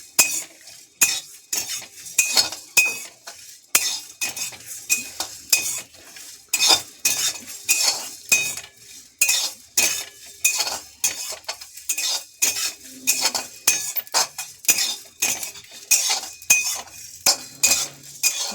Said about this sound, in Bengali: এবার এটা ভাজবো।